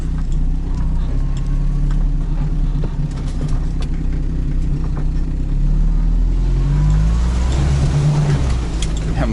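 A car drives along a rough road full of deep potholes, its engine a loud, close, continuous rumble that rises in pitch toward the end as it accelerates, with bumps and rattles along the way.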